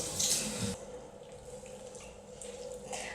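Ice water poured over flour and butter cubes for a pear and dark chocolate tart pastry: a short, bright splashing pour at the start, then a quieter wet rustle.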